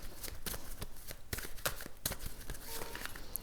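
Tarot cards being handled and placed during a reading, a run of quiet, crisp slaps and shuffling rustles in an uneven rhythm, close and soft, with no talking.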